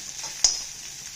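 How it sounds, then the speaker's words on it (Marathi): Onion, garlic and coriander masala frying in oil gives a brief steady hiss with one sharp spoon tap midway, close by and without any talk. "आता मसाला त्या तेलात भाजून देते"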